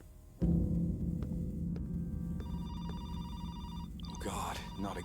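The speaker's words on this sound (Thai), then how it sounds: "มีเสียงโทรศัพท์อีกแล้วครับ" Repeated electronic telephone ringing in the horror video game The Phone, set in a basement, a steady tone sounding over a low, dark ambient drone until a brief burst of other noise at the end.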